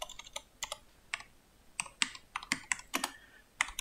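Keystrokes on a computer keyboard as a command is typed at a command line, a quick irregular run of close, crisp clicks and taps with brief pauses between bursts and no talking.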